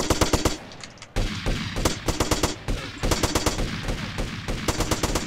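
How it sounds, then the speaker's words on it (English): Rapid automatic pistol fire in GTA San Andreas, loud and close, delivered in several quick bursts of evenly spaced shots separated by brief pauses. "Oh, pistol is automatic?"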